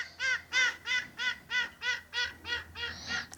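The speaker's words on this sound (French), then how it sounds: "Ici au moins on a des oiseaux." Birds at the Cap Ferret nature reserve, heard as a goose-like fowl honking about nine times in a steady, evenly spaced series, fairly close and clear over a quiet background.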